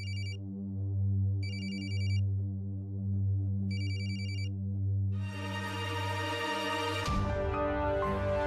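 A phone ringtone chimes in repeated bursts over a low humming tone, then a brighter, louder melodic ring takes over toward the end.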